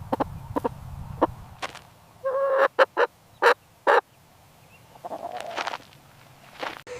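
A chicken clucks in a short series of sharp, bright calls, a few quick bursts clustered together, loud and close against a low background rumble with softer scattered noises around them.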